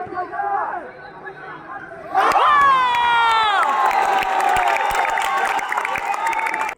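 A large crowd at a university sports fest basketball match erupts into loud, sustained cheering and shouting after a stretch of softer chatter, with voices and whistles layered close and dense.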